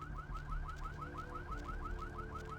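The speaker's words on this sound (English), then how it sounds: "That car alarm going off pretty steady." A car alarm goes off in Vampire: The Masquerade - Bloodlines, a steady wailing tone that repeats in quick, even rising sweeps. It sounds somewhat distant and continuous, with a low hum underneath and no voices.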